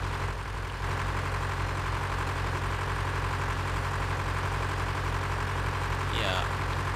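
A tractor engine in Farming Simulator 2013 drones at a steady idle, loud and constant for the whole stretch, with a short rise and a brief higher sound near the end.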